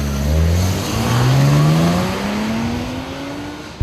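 BMW M3 engine on a race track, revving hard through the gears with rising whines that climb and drop at each shift, loud and close throughout.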